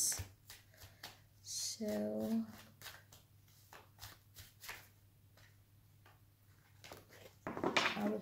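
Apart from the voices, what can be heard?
shuffling oracle cards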